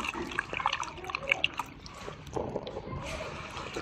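Pink Rosy-scented detergent from a self-service soap machine is being mixed with water over laundry, making close, irregular splashing, trickling and sloshing sounds, with no talk.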